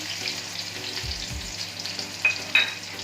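Finely chopped onion fries with cumin in a pan, a steady close sizzle with a couple of stirring knocks and brief sharper crackles, no one talking.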